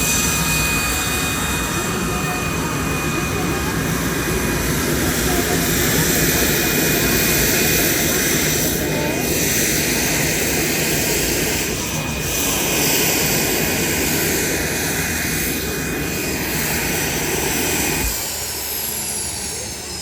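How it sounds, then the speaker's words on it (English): An aerobatic airplane flies an air show sequence at Wings Over Camarillo, its engine a loud, sustained roar with slowly shifting pitch as it climbs and turns, dominating the scene. "She'll be flying an air show sequence of 18 figures, pulling up to 5 positive G's"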